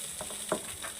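Chilies and garlic fry in hot oil in a pan, a faint steady sizzle over about a second with a few light scrapes of stirring.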